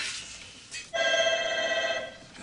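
Ringing on the line of an outgoing telephone call: one steady, bright electronic ring lasting about a second, near and clear after a brief click.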